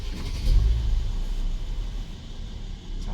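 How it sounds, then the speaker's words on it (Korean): A 2015 Mercedes-Benz E400 coupe engine catches with a low rumbling surge, then settles into a steady idle, close and fairly loud with no talk. "이제 시동이 제대로 걸리는지 볼게요"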